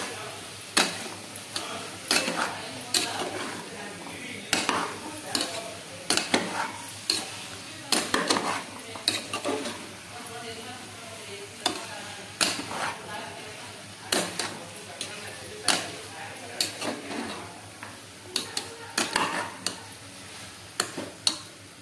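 Potato pieces are stir-fried in a pan for gongura pulav, a spoon scraping and clinking against the pan in steady repeated strokes over a quiet sizzle.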